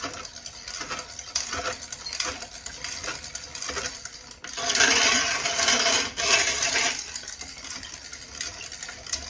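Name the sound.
stirring and scraping spaghetti sauce in a pot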